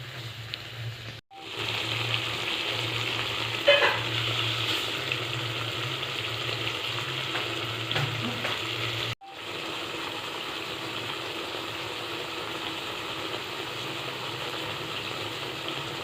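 Potato and cauliflower frying with spices over a low gas flame for an egg curry: a steady, close sizzle that holds throughout, broken by two brief drops into silence.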